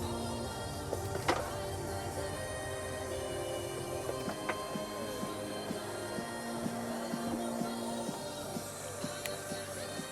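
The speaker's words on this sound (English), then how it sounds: "your rear sunshade control" Electric rear sunshade motor in a 2012 BMW 640i Gran Coupe, a steady low mechanical whir running for several seconds with faint clicks, heard close inside the quiet cabin.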